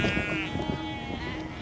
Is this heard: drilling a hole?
no